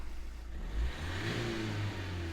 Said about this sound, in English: We're still reading, so let's rev her.